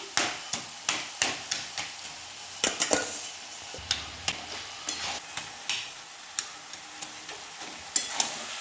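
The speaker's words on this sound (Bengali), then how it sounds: "মুড়োগুলো দিয়ে একটু করে এইভাবে খুন্তি দিয়ে ভেঙে দিচ্ছি।" A metal spatula clatters and scrapes repeatedly in a hot wok, breaking up fish heads as they fry with tomato; sharp, close knocks come in an irregular rhythm over a soft sizzle, with no talk.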